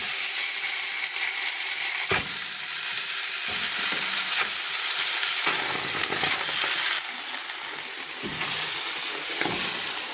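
Food sizzles steadily in a pot while a spoon stirs sugar into it, with scraping strokes repeating at irregular intervals. The sizzle stays close and even throughout, with no one talking.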